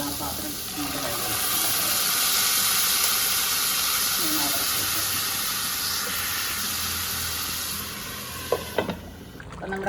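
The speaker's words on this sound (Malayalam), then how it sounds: "നമ്മുടെ കറി ഇങ്ങനെ തൊട്ടപ്പുറത്ത് തിളച്ചുകൊണ്ടിരിക്കുകയാണ്" A meatless fish-style curry with ivy gourd bubbles in a pot on the stove, a steady loud hiss and simmer swelling and easing over several seconds, with a few utensil clicks near the end.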